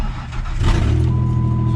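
A truck engine fresh from a top-end overhaul cranks and catches, then settles into a loud, steady, close idle with a low throbbing rumble and a faint whine.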